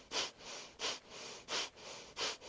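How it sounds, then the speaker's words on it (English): Forceful rhythmic breaths of Bhastrika bellows-style pranayama breathing, four sharp airy pushes about every two-thirds of a second, close and fairly quiet with no talking. "Exhale."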